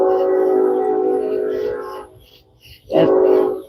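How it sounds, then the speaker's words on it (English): A passing train sounds its horn near a road intersection beside a flower garden, with one long sustained blast, a short gap, then a second loud blast. "That's the train, y'all."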